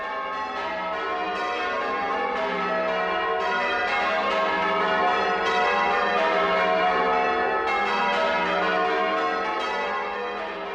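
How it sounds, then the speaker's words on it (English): Church bells peal from a bell tower in a steady, continuous cascade of overlapping strikes, loud and sustained throughout with no voices. "What a great sound bells ringing like that are."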